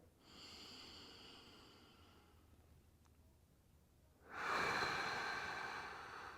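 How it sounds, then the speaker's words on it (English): Slow, controlled exhales during a back stretch, a soft breathy hiss drawn out at the start, then a louder, rushing breath near the end, close and with no talking. "Nice slow exhales."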